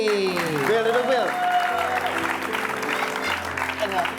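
A studio audience at the Indonesian TV show Dahsyat applauds a guest with steady, dense clapping throughout, mixed with background music and voices.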